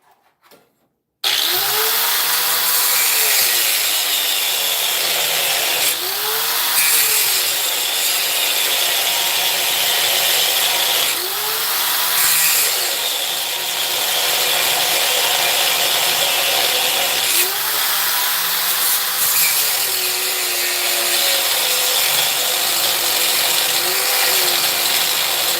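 A power tool cuts loudly and continuously next to a car engine block, its grinding whine holding steady with slight rises and dips for about 25 seconds after a brief quiet start.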